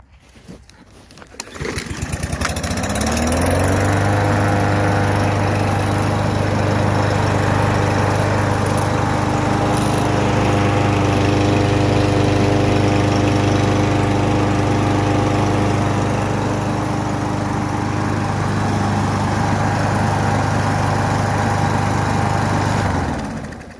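A Husqvarna 5521P push lawn mower engine catches after a short pull and settles into a loud, steady drone that holds for about twenty seconds before cutting off at the end, with no voices.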